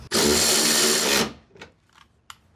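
Power tool driving a 10mm bolt while refitting a Ford Bronco tail light: one loud, close, high-pitched whirring burst lasting about a second, then a few short clicks and handling knocks.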